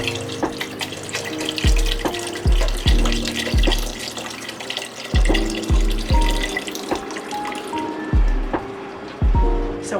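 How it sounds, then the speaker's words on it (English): Vegetable broth pours from a container into a soup pot for vegan chickpea noodle soup, a gurgling liquid stream punctuated by repeated glugging bursts as the container empties, loud and close throughout. "you just go ahead and pour the entire container in"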